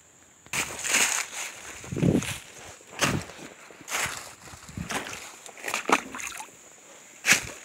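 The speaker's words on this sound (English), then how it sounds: "Water." Close footsteps splash and slosh through shallow water beside a creek in Kentucky, arriving as irregular wet steps and splatters with short pauses between them.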